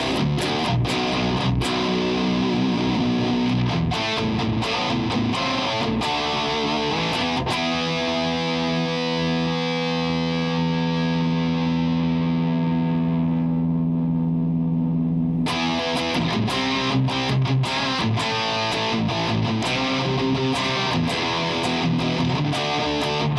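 An electric guitar plays heavily distorted chords through a Mesa/Peavey 650IV+ preamp with a deep low end, loud and upfront, including a long sustained chord that rings and decays before the riffing resumes.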